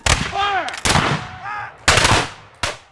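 Blank rounds fired at a historical battle reenactment, four sharp, loud gunshot bursts spaced about a second apart, each with a long echoing decay, with faint shouting voices between shots.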